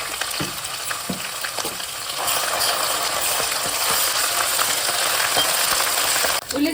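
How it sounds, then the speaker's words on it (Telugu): Onion and ginger-garlic paste fry in a hot pan for chicken fry. A few stirring scrapes come first, then a dense, even sizzle swells and holds close and loud until a sudden cutoff near the end. "ఉల్లిగడ్డ అల్లం వెల్లుల్లి పేస్ట్ మంచిగా వేగిందండి"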